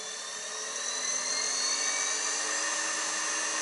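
Record Power Coronet Herald woodturning lathe running at speed, a smooth steady motor whine with layered tonal hum and no knocks or rattles, constant and fairly quiet throughout.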